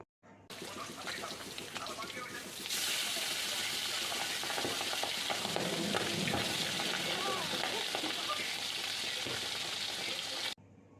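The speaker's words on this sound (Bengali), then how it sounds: "দেখলে বন্ধুরা, কিভাবে মাছটা ফাটছে" Pabda fish spattering and popping in hot oil in a wok, a dense, loud crackle that surges after a short quieter start and stays steady to the end, with a voice talking over it.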